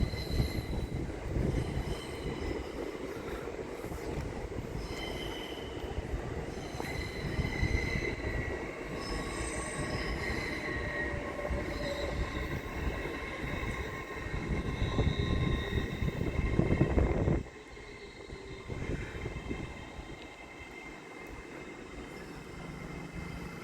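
LNER Class 800 unit 800-113 rolls into platform 1 at Doncaster, its wheels squealing and engine rumbling loudly nearby, then the noise drops off sharply as the train comes to rest.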